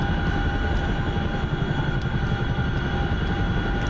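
A Chinook helicopter in a flight simulator game drones on with a steady, loud rotor and engine roar that fills the whole stretch without a break.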